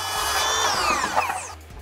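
A Ryobi 18V ONE+ HP brushless circular saw (RCS18X-0) cuts through wood, a loud whining blade that bites in, then winds down and falls quiet near the end.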